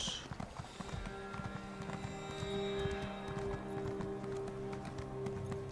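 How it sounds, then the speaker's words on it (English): Hooves of a Nightmare Horse mount clip-clop at a steady running rhythm in the Elder Scrolls Online video game, faint and continuous, with no talking over them. "We have the Nightmare Horse."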